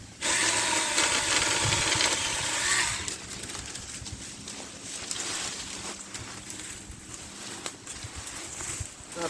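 A Saker mini chainsaw with a 4-inch chain bites into a hardwood tree, giving a loud, buzzing whine for about three seconds, then dropping to a lower, rougher drone as the cut continues.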